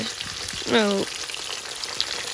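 Spinach sizzles as it fries in hot oil, a steady close crackle and hiss that runs throughout, with a brief tonal squeak partway through.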